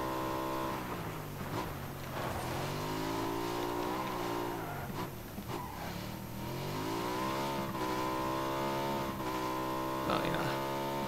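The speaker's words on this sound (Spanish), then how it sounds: "Un carro por aquí." A car in PUBG Mobile drives with a steady engine drone that rises and falls as it revs and shifts, close and continuous throughout.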